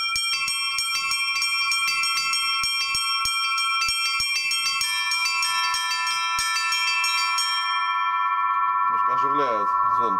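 Church bells ring in a lively, irregular peal of overlapping strikes, sustained and resonant, ending with a lingering hum and a faint voice.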